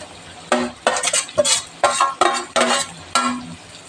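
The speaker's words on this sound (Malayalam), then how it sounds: "അപ്പം നമ്മൾ ഇങ്ങനെ മിക്സ് ചെയ്യുമ്പോൾ ഉണ്ടല്ലോ എല്ലായിടത്തും ഉണ്ടാവും ഗ്രേവി" A spoon stirs thick chicken gravy for a fried chicken dum biryani in a pot, with about eight close, rhythmic scraping and sloshing strokes.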